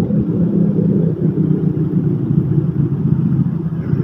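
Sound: engine-powered winch pulling in fishing net

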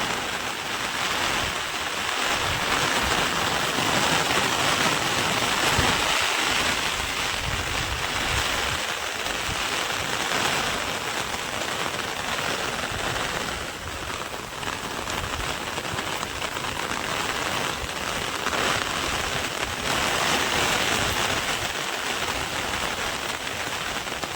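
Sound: heavy rain on a farm

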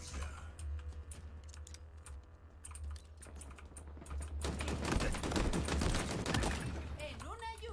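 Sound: burst of gunfire in video game

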